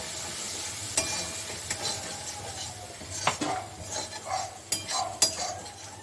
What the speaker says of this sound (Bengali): জিরে আর আদা সব একসঙ্গে আমি এখন এটা কষিয়ে নিচ্ছি